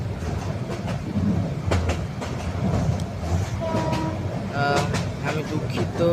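A moving train heard from on board, with a steady rumble and rhythmic wheel clatter throughout and a brief horn-like tone near the end.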